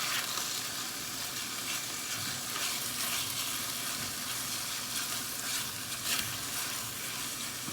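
Sloppy joe mixture sizzles steadily in a pan while being stirred, a continuous close, even frying hiss with faint scraping and no voices.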